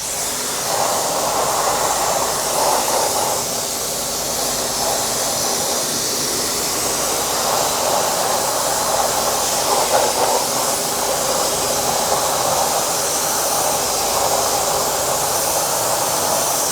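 A Yeryork YE006 pressure washer sprays water across house siding in a steady, loud, unbroken hiss that lasts throughout, with no talking.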